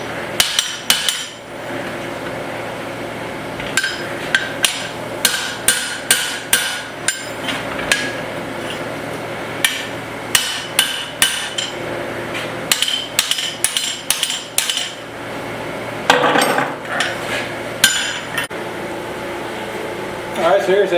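A small axe head is hammer forged with rapid bursts of ringing metal-on-metal blows separated by short pauses, over a constant fan-like hum in the workshop.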